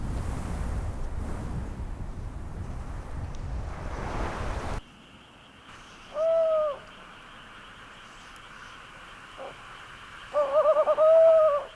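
A male owl hoots in a night forest, two separate quavering calls spaced several seconds apart, clear and moderately close against a quiet background after an initial stretch of broadband noise.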